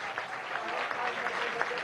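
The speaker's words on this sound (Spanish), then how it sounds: "Fuerte aplauso" An audience applauds at a national journalism awards ceremony: steady, even clapping from a crowd, a little distant and fairly soft throughout.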